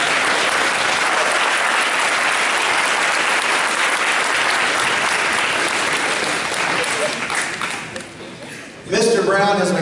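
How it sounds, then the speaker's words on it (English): Loud, dense applause from the audience at a school band's Christmas concert, sustained for several seconds before tapering off, then a voice speaking into an amplified microphone. "You can clap for him."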